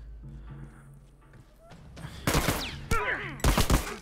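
Gunfire from The Last of Us, firing in several sharp bursts that grow louder toward the end, with quieter game sounds in between.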